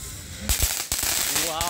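A jumbo conic firecracker fountain is lit close by for Ramadan: a short quiet lead-in, then loud sharp cracks and bursts into a sustained crackling hiss, with a voice calling out near the end.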